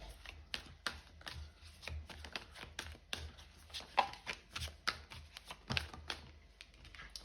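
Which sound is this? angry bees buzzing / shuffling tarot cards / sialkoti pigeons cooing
shuffling tarot cards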